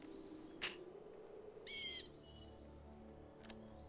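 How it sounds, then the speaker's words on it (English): Birds calling in the RuneScape video game, a short warbling chirp standing out over a faint low ambient hum, with a couple of sharp clicks, quiet and sparse. "So we'll catch 3 more birds"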